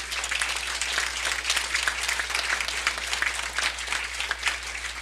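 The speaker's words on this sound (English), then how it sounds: "A round of applause for all the candidates" Dense, steady audience applause for Republican candidates at a Colorado Secretary of State forum hosted by a Republican club, a full wash of many hands clapping continuously throughout.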